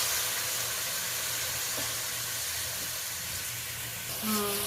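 Masala frying in a pan gives a continuous loud hiss and sizzle after a little water is poured in, steady throughout with a faint clink near the end.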